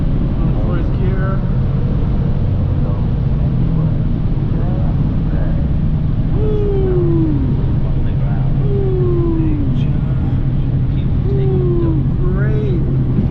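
Subaru WRX cruising in fourth gear on a road in Mexico, a steady loud engine drone and road rumble with a few rising whine sweeps, heard from inside the car as someone talks.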